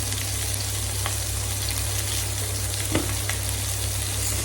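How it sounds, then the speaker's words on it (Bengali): Prawns with fish masala fry in a pan, a steady dense sizzle broken by a couple of faint stirring scrapes, close by and with no talking. "এটাতেই হয়ে যাবে চিংড়ি মাছ ভাজা সুন্দরভাবে।"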